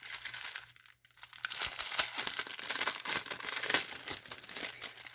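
Close, steady crinkling and crumpling of a small sheet of paper from a diamond painting kit, a soft rustle going on for several seconds with a brief pause near the start.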